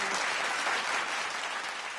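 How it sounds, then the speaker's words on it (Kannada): An audience on a Kannada TV show stage bursts into dense, sustained applause, many hands clapping evenly at moderate distance for a couple of seconds with no talk over it. "ಚಪ್ಪಾಳೆ ನಿಮ್ಗಾಗಿ."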